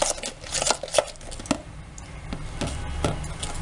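Cake batter for nastar pastry being mixed in a bowl, with irregular clinks and taps of a utensil against the bowl, loudest early and then settling into softer scraping.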